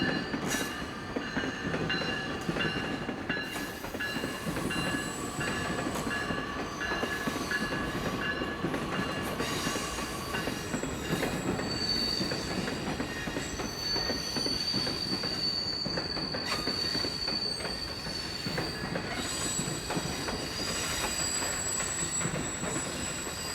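A commuter train rumbles steadily past close by, with high metallic wheel squeals ringing out over the continuous rolling noise.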